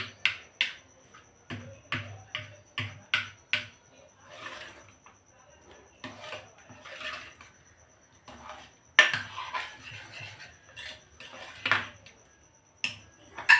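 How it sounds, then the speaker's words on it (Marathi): Spoon stirring cooked mixed lentils in a pot, a series of sharp clinks and scrapes in uneven bursts with quiet gaps between them. "आता या चम्मचने थोडंसं आपण मिक्स करून घेणार आहोत"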